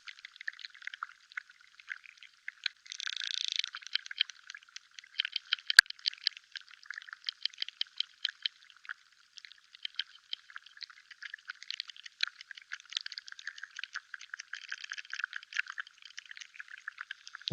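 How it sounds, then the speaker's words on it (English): Dense, crackling underwater clicks fill a freshwater soundscape, steady and busy throughout, with a brief louder burst of crackle early on and no voices. "I wouldn't believe all those clicking sounds are plants. I think some of them are creatures somehow."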